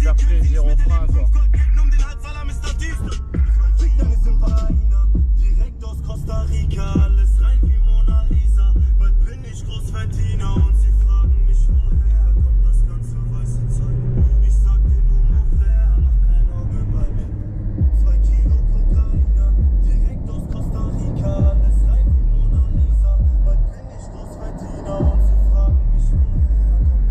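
Interior of a moving Mercedes-AMG bedding in new brake pads: a constant low engine rumble and road noise, with varying tones as it accelerates and slows.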